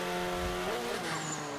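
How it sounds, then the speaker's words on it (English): A race car in Forza 5 revs and shifts, its engine tone sweeping up and down in layered harmonics, with a brief turbo whoosh rising near the end; steady and loud with no talking. "I can hear the turbo again kicking back"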